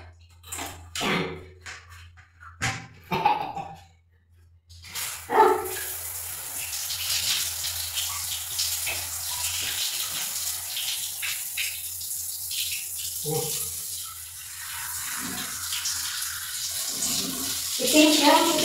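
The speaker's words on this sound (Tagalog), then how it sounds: "Kailangan ibaba ko yung shower" A bathroom shower runs in a steady hissing spray for most of the stretch, preceded by a few seconds of clattering and handling sounds, with the flow continuing unbroken at a fairly close, even level.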